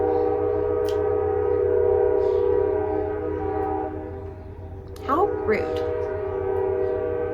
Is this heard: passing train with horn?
yes